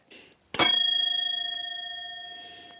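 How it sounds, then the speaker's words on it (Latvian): A bell from the oldest motorcycle in the Baltics, made in Riga, rings once after a faint tap, with a single bright strike that fades slowly over two seconds. "zvans, kurš atrodas uz visvecākā motocikla Baltijas valstīs, kas ražots Rīgā"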